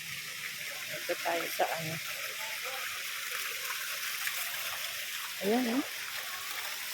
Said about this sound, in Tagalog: nasaan nga lumalabas yung mga tubig